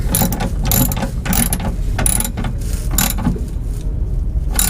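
A ratchet clicks steadily in several quick bursts as running board mounting bolts are snugged down on a RAM truck, close and loud with no talking.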